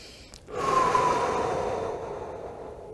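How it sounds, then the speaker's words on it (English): One long, deep breath is drawn and pushed out during a post-run downward facing dog stretch, a close, airy rush that swells quickly and slowly fades over a few seconds. "8 to 10 deep breaths and just push on that out breath"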